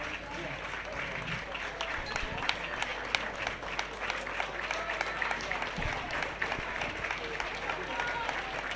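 Crowd cheering and clapping for runners crossing the finish line at a school athletics Diamond League final, a steady, fairly loud wash of applause with a commentator talking over it.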